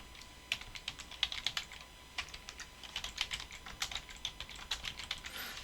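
Quick, light keystrokes on a computer keyboard while a code comment is entered in an Android project, a fairly steady run of crisp clicks with a brief pause, close and fairly quiet.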